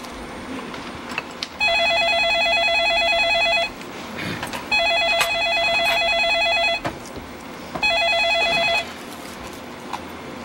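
A telephone rings in three separate bursts of electronic trilling, loud and close, with brief gaps of room noise between them, in a family comedy skit setting.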